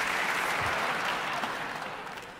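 An audience at a talk claps steadily in a dense, even wash of applause, moderately loud at first and slowly fading over a couple of seconds.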